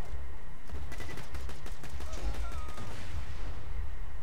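Gunfire in Borderlands 2, rapid cracking shots in quick irregular bursts over a low rumbling game backdrop, with brief faint voice sounds.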